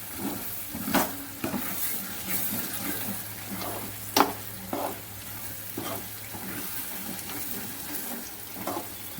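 Water poured into a pan of sweetcorn and paneer curry, bubbling and sizzling close up with scattered clinks and stirring sounds through a steady frying hiss.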